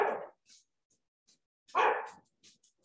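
Domestic dogs barking, two separate sharp barks about a second and a half apart with small yips and whimpers between them, moderately close and not loud, with no talking.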